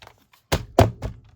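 A rubber-stamp tool is thumped against a hard surface to knock debris loose, giving three dull close thunks in quick succession after a near-silent start.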